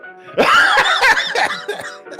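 A person coughs repeatedly in a loud, harsh burst lasting a couple of seconds, close to the listener, with throaty rasping between coughs.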